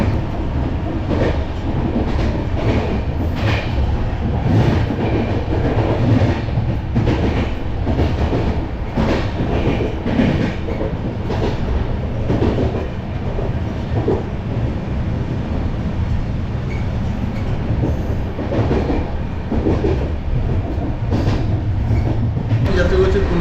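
Deccan Queen Express running from Pune to Mumbai, heard from inside the carriage as a steady loud rumble with rhythmic clickety-clack of wheels over rail joints throughout.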